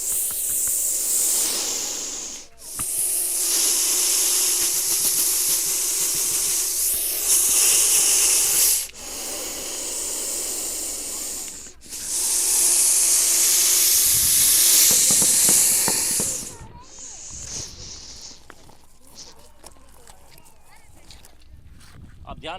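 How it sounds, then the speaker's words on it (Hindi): A Russell's viper on a roadside hisses hard when threatened, sounding like a pressure cooker whistle: long loud bursts of breathy hiss, each lasting several seconds, separated by short gaps, then fading into handling noise and voices. "जब भी इसको खतरा होता है तो अपने शरीर में हवा भरता रहेगा, छोड़ता रहेगा, तो कुकर जैसी सीटी की आवाज़ होती है।"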